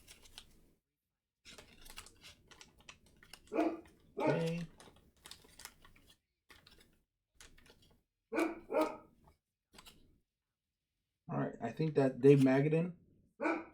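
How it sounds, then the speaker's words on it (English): A Cane Corso barks inside a house, a few muffled barks from another room, partly under someone talking over sports cards, with light tapping and shuffling nearby. "sorry about my dog back there. I don't know if you can hear her through the thing"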